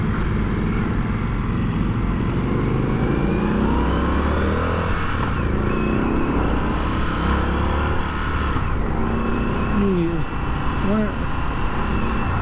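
An Indian FTR Carbon motorcycle pulls away and accelerates, its engine droning loud and steady with rising pitch sweeps as it gains speed. A rider's voice talks over the constant engine and wind noise.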